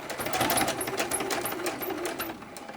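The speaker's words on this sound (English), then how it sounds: "I'm gonna sew over where I started with a couple of stitches" A sewing machine stitching over the starting point on a fabric bin made from fat quarters, a close, rapid mechanical whir and needle clatter running steadily before easing off at the end.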